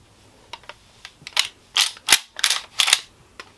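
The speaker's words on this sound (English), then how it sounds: "If you pump the shotgun just like that, the criminal is gonna run away." Pump action shotgun being racked, a series of sharp metallic clacks and slides in irregular bursts, close and fairly loud, with no talk.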